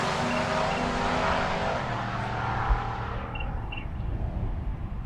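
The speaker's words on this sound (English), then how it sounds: "That's the Trackhawk. It's got the Hellcat motor with the SUV" Jeep Trackhawk SUV with a Hellcat engine launching at a drag strip, a loud roaring run that fades away with distance over a few seconds.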